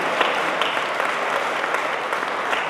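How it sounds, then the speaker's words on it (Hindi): Audience applause at a Hindi poetry recital, a loud sustained wash of many hands clapping close by, steady throughout with no voices standing out. "उन दोनों माओं के लिए जोरदार ताली बजनी चाहिए"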